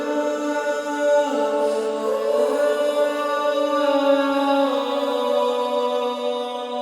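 A piece from a composed soundtrack with layered strings, a sustained, harmonically rich chord texture swelling gently and evenly throughout, with no voices over it.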